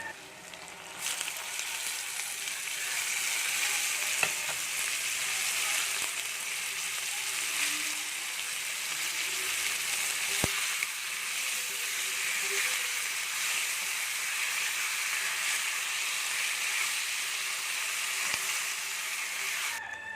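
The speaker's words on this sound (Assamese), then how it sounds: "এয়া মাছখিনি ভজা হৈ গ'ল।" Fish frying in hot oil with fried onions in a home kitchen pan, a steady, continuous sizzle and hiss close up, running unbroken with a few faint clicks and no talk.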